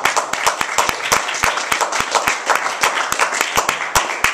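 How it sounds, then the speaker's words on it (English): A crowd at a Toastmasters meeting applauds, with many sharp claps rattling steadily throughout, fairly loud and close. "let's give a big round of applause to our moderator, our speaker, and our panelists"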